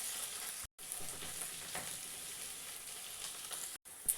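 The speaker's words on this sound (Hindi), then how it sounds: "प्याज को डालने के बाद इसे हमें चला चला कर हल्के भूरे रंग का होने तक का प्याज को भून लेना है" Onions fry in a pan while being stirred, a faint, even sizzle heard close with a few light stirring scrapes and two brief dropouts to silence.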